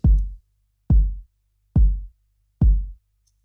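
Four deep, thumping beats pulse at a slow, steady 70 BPM, each with a short decaying boom, separated by silence.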